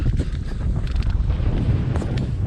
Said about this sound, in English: you could probably hear it's getting a little breezy out